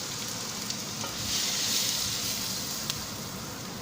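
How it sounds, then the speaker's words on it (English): All-purpose flour is stirred into a hot pan for a vegetable au gratin, a steady close sizzle and frying hiss with scraping strokes that swell briefly midway. "We will stir properly so that no lumps are formed."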